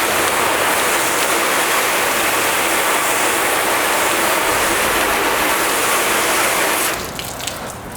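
Steady, loud rushing spray of a hose rinsing a car freshly coated with Turtle Wax sealant or spray wax, continuous for most of the stretch before dropping off near the end.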